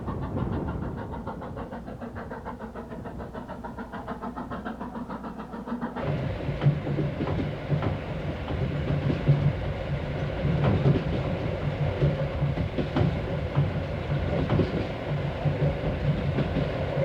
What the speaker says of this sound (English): the train gradually crosses the mountains